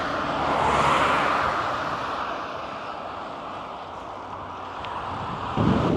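Strong headwind roaring across the microphone while cycling along a raised flood embankment, a steady rushing gust that swells and eases, with a thump near the end.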